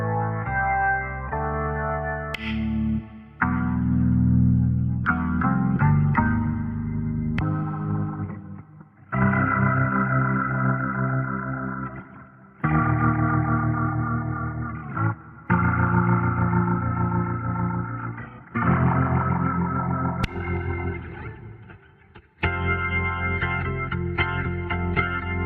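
Yonac's Valkure Guitar Organ app on iOS plays a run of sustained, effects-laden organ-like patch tones in successive held chords, with chorus and distortion colouring, loud and close, with short gaps between phrases and no talking.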